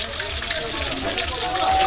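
Fish sizzles in oil on a frying stove at the Kausar Fish Fry House in Kuakata, a close, crackling hiss with faint voices underneath.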